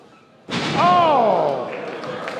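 A wrestler's enziguri kick lands with a loud thud during a tag team match, a single heavy impact followed by crowd noise and a commentator talking over it.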